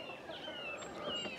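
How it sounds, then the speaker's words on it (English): Backyard chickens cluck and chirp softly, a few short rising calls overlapping at close range against quiet outdoor background. "gratuitous chicken scene"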